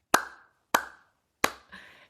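Three sharp hand claps from a group at a wellness gathering, evenly spaced and crisp, each close and loud with a quick decay, followed by a softer rustle.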